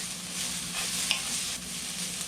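Goose meat frying with onions and peppers in a pan for Philly cheesesteaks, a steady close sizzle with a faint stir or scrape near the middle, no voices.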